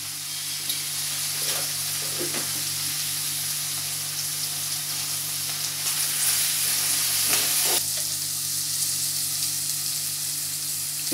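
Broad beans frying with turmeric in a pan, a steady loud sizzle with occasional stirring scrapes and crackles, no voices.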